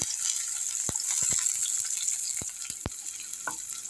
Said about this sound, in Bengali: আর পেঁয়াজটা একটু ভাজা ভাজা হয়ে যাক